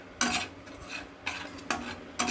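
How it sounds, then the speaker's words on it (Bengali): A utensil stirs food frying in a pan in four scraping bursts about half a second apart, over a quiet sizzle. "এটা ভাজা হচ্ছে লেগে লুগেও মানে পুড়ে না যায় একটু নাড়তে হবে বারবার"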